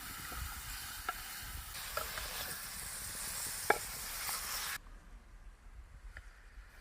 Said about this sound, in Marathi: पातेल्यामध्ये खिमा घातल्यानंतर ना आपण चांगला मिक्स करून घेऊया